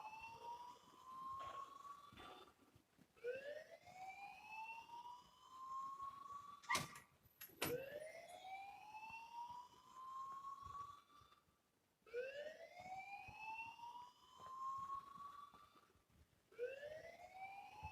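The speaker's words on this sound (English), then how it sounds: "please turn off that alarm since that's your job" Siren-like electronic alarm in the Life is Strange video game, rising in repeated upward sweeps every few seconds, loud and continuous with a couple of sharp clicks midway and no talk.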